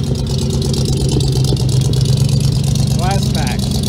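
A 1977 Ford F150 short box truck engine runs at a steady, even idle, a continuous low rumble up close, with a voice heard over it.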